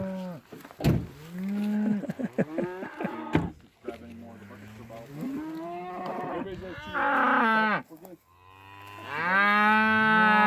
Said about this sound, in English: The cows have come to see us off.